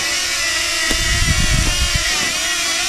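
A DJI Flip drone flies and follows along on a hike, its rotors giving a loud, steady close buzzing whine throughout.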